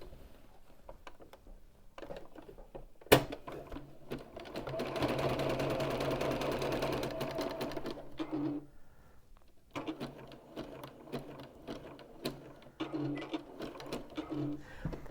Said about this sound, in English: I'm going to finish sewing